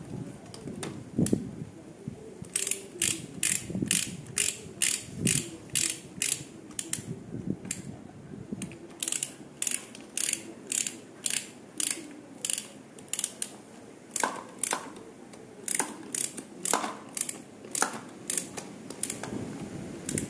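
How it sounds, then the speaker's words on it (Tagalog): Ratchet wrench working on the clutch of a 49cc Chinese moped, clicking in rapid bursts of pawl ticks with brief pauses between strokes, close and clear, with no speech. "So, ratchet muna natin."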